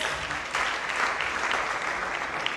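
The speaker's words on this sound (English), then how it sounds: "Let's clap hands for Jesus." A congregation at a Christian testimony service claps hands for Jesus, a dense, even wash of many hands applauding together, moderately loud and sustained without speech.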